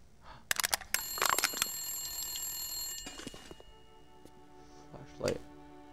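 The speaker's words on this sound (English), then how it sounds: "Phone's ringing." A telephone rings in the survival video game The Long Dark, its bell ringing in several bursts over a steady electronic hum, with someone talking briefly partway through.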